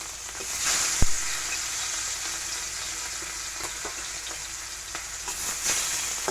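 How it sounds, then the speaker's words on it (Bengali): Rohu fish pieces coated with salt and turmeric fry in a large pan, a steady, close hiss of sizzling oil with occasional sharp pops and stirring clicks. "এই যে মাছগুলো ভেজে নিচ্ছি"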